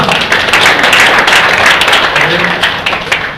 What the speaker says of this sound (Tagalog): Palakpak ka, palakpak.